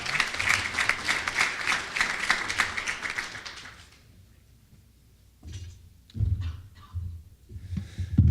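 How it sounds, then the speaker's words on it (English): Audience applause at a volunteer appreciation and awards celebration, a steady crowd clapping loud and sustained for about four seconds, then fading out, followed by scattered knocks and shuffling movement. "Let's give Casey a round of applause"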